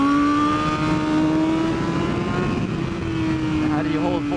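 A BMW S1000RR sport bike screaming at full throttle on the Pacific Raceways track, a high, sustained engine whine with a slowly drifting pitch and steady wind roar, close and loud throughout.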